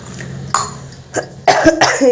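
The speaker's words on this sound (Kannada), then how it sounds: "ಕೆಮ್ಮು ಬೇರೆ ಇದೆ ಸದ್ಯಕ್ಕೆ ಇನ್ನೂ ಸ್ವಲ್ಪ ಕಮ್ಮಿ ಆಗಲಿಲ್ಲ" A woman recovering from a fever gives a few short, close, loud coughs and throat-clearing bursts in quick succession, with no speech.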